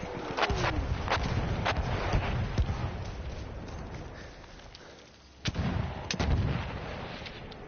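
Artillery fire in the video game Battlefield 1 booms in repeated sharp blasts and cracks over a rumbling battlefield, with some impacts near and loud and others more distant.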